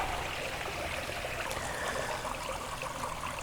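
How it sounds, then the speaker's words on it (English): Water from a small pond waterfall splashes and trickles steadily, a constant bright rushing sound close by with nothing else heard. "I'm going to shut off the waterfall because I'm not sure how the waterfall, all the noise of the pond"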